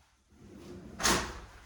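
A closet drawer slides shut with a soft rolling rumble ending in a brief solid knock, close and fairly quiet in an indoor room.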